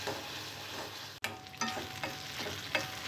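Red chillies frying in oil for a cucumber curry, a quiet steady sizzle with a brief dropout, then a few stirring scrapes, close and low in level.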